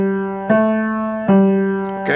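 Piano playing a slow phrase of the hymn God Is So Good, three clear struck notes spaced nearly a second apart, each sustaining and decaying, with no voice over it.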